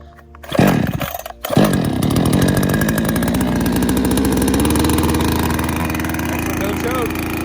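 A Salem Master Pro chainsaw engine on choke catches after a pull or two and then keeps running at a fast, steady high idle nearby, loud and continuous throughout.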